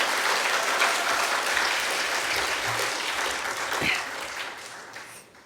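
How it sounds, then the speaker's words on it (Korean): Audience in a church service applauding to welcome young church members, a broad steady wash of clapping that fills the whole stretch and fades slightly toward the end. "여러분들 박수로 좀 환영해 주시기 바랍니다"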